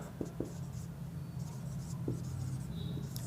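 Teacher writing on a board in a classroom: a few short, scratchy strokes come in quick bursts over a steady low room hum, close by, with no clear talk.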